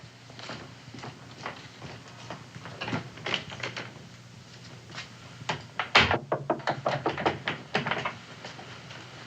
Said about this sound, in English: Answer the door, Sally.